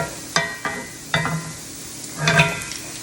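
Onions caramelizing in a pan, a soft continuous sizzle broken by several sharp scraping stirs of a utensil against the pan, close and without talk.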